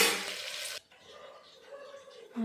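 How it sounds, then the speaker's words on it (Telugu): Green chillies frying with onions in a pan, a loud bright sizzle for under a second, then quieter cooking crackle and stirring, with the sizzle returning at the end. "ఆ పచ్చిమిర్చి వేసేసి కాసేపు అలా ఫ్రై చేయాలి"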